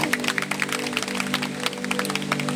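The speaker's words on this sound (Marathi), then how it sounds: "त्यांच्यासाठी जोरदार एक टाळ्या आपण" Audience clapping at a 133rd birth anniversary celebration of Dr Babasaheb Ambedkar, steady dense applause throughout with sharp individual claps over a sustained tonal background hum.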